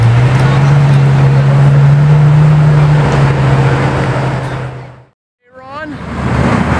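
A Bugatti Veyron Sang Noir supercar on a city street, a loud engine roar building then cutting out as it passes close by, with voices around.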